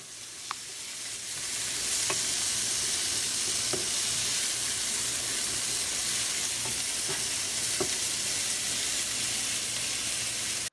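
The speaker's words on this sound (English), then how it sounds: "So our next step will be to add the onions, peppers, and tomatoes. And we want to saute these in the sofrito and garlic." Onions, peppers and tomatoes sauté in sofrito and garlic for shrimp mofongo, a dense, even sizzle that holds steady throughout with occasional faint stirring taps, close and unbroken by speech.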